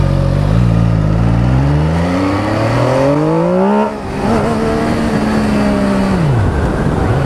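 An MV Agusta Brutale 800 motorcycle accelerates hard in first gear while lifting its front wheel, the engine revving up loud and close, briefly dipping before climbing again in a rising whine.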